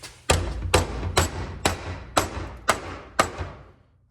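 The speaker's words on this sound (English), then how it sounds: "That means I need a hammer." Seven evenly spaced metal hammer blows strike an old Lawn-Boy lawn mower during a restoration, each a sharp close clang ringing briefly before the next, slowly fading at the end.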